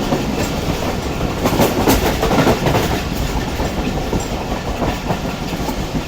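The Hazara Express, a refurbished passenger train, rolls along the rails past a station without stopping, a loud steady rumble with rhythmic clickety-clack from the wheels running continuously and close.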